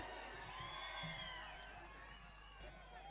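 Cheering and whooping crowd at a political rally in Maharashtra, a sustained loud roar with rising shouts and whistles across the whole stretch; clapping is not distinctly picked out.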